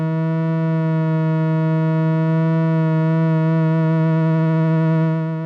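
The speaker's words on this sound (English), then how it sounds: "So we can get some vibrato" An analog synth oscillator held on one steady note, its pitch wobbling in a gentle sine-wave vibrato from an LFO, loud, bright and buzzy with rich harmonics, alone without talk.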